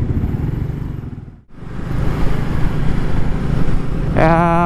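A Kawasaki W175 motorcycle engine hums steadily while riding, buried in heavy wind rush that briefly dips before surging back, with a short rising whine near the end.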